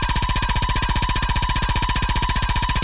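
Steel, a metallic synth bass preset, plays with its LFO speed doubled, giving a loud, fast, even throbbing pulse of about fourteen beats per second with a bright metallic ring, heard alone.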